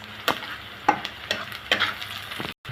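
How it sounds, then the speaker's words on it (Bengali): Chopped onions frying in a pan for rui fish bhuna, a steady sizzle punctuated by several crisp spatula scrapes as they are stirred, close up with no talking. "পেঁয়াজটা আমি ভালো করে নেড়ে চেড়ে ভালো করে ভেজে নিব"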